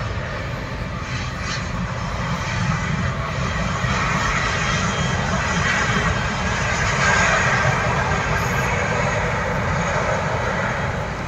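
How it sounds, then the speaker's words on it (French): A fixed-wing airplane flies near Orly airport, its engine a steady, loud broadband roar that persists throughout without a break, heard outdoors with no talking. "Là il va voir les avions à l'aéroport d'Orly."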